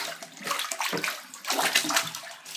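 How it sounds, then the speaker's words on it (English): Laundry is agitated by hand in a water-filled bathtub, with repeated sloshing and swishing in rhythmic surges heard up close. "And you just agitate like this, over and over."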